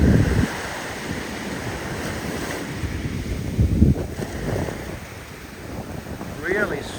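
Steady breeze blowing across a beach in Bali, with broad wind rush and low microphone buffeting over distant surf, fairly even throughout with a few stronger gusts.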